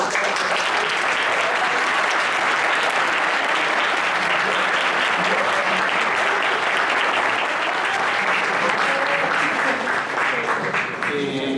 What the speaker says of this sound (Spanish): sí le demos un aplauso a Patricia Trujillo por haber organizado